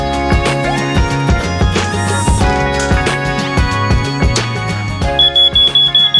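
A home smoke alarm under test gives a short run of sharp, evenly spaced high-pitched beeps near the end, partly masked by loud rhythmic background music.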